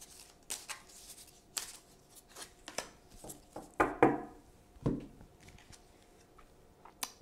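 Tarot cards being shuffled and handled, a series of short crisp riffling and slapping bursts with a couple of louder shuffles midway, fairly close and alone without talk.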